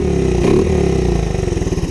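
Dirt bike engine starting on the first pull after a carburetor cleaning, with the choke on: it catches and settles into a loud, close, steady, rapid putter, sounding alone.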